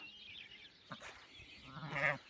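A sheep bleats nearby in a short wavering cry, with quieter bleats and a soft background murmur around it.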